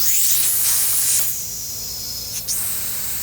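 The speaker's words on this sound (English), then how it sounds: "I'm just using my air compressor and I've got it dialed way back." An air compressor, turned down low on its regulated side, pushes air into a household gas line, giving a steady close hiss with slight surges and a brief burst near the end.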